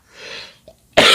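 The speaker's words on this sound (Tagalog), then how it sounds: "Inuubo tayo." A single sharp cough, close and loud, cutting in at the end after a faint breathy throat sound and a small click.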